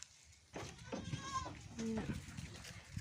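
Small goats bleat from a pen on a rural farm, a few short wavering cries rising over a steady outdoor background while someone talks throughout.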